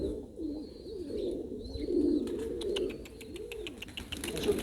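Pigeons coo steadily in a loft in Balakhani, Baku, with low rolling calls repeating close by over faint background noise.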